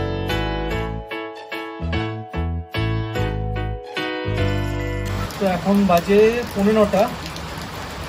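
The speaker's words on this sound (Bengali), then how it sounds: "চারিদিকে এত বৃষ্টি হয়েছে" Heavy rain pours down at a market in Orissa, a dense hissing patter that begins after a stretch of music and continues under a man's speech.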